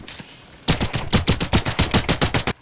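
Gunfire in The Cycle: Frontier, a close, loud rapid string of about fifteen evenly spaced shots that follows a brief quiet moment.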